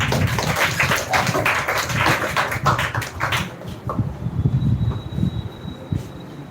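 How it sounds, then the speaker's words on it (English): A crowd claps steadily for several seconds, the applause thinning out and fading toward the end. "So clap for Miss Muskan."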